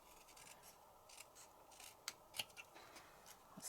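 Scissors trimming paper for a handmade card, quiet close snips with a few sharper clicks in the middle, over faint rustling and no talking.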